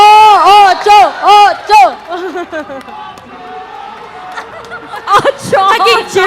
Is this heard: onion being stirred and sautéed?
no